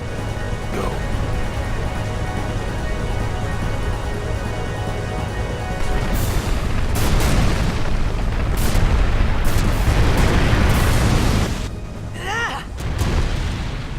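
Final Fantasy X explosion: a sustained loud rumbling roar with a heavy low boom that swells midway, then cuts off into a brief quieter tail.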